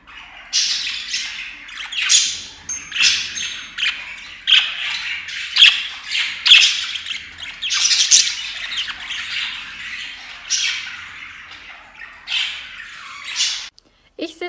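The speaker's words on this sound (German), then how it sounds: "Es ist wirklich unglaublich laut im Vogelzimmer" Pet birds squawk loudly and repeatedly in a bird room at home, a dense, continuous chorus of shrill calls and chirps filling the space with hardly a pause.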